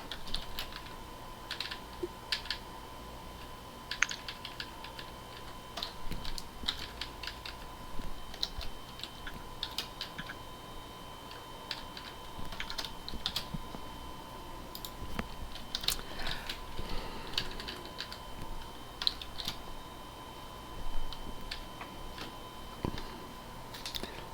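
Typing on a computer keyboard: quiet, irregular clicks and taps in quick bursts, close up, heard alone in a calm room.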